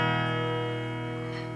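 A 1980s super strat electric guitar plays a clean tone on its humbucker pickup, one sustained chord ringing out and slowly decaying, close and clear.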